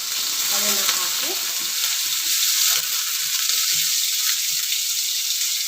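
Chopped onion hisses and sizzles in hot oil with mustard seeds, a steady loud frying crackle with occasional stirring scrapes close by.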